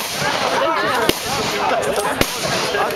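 Two sharp, cracking shots of German gunfire ring out about a second apart during a battle reenactment, standing out above a continuous murmur of background voices and crowd noise.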